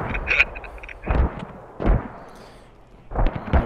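An artillery barrage in the video game Squad, several heavy booming explosions spaced about a second apart, loud and close, with sharp cracks at the start.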